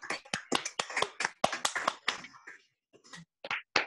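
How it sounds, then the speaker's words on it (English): Audience applause at a live microplay festival, a small group clapping in quick, uneven bursts that thin out into a few scattered claps near the end. "And applause."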